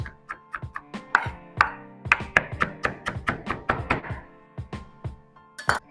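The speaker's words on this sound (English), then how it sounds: "I'm going to give my herbs a chop" A knife chops fresh washed garden herbs on a cutting board in a series of about fifteen close, crisp thuds with an uneven rhythm, some hits louder than others, with no talking.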